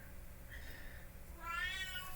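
A cat meows once, a faint drawn-out call near the end, over low background noise while a boxing video game plays.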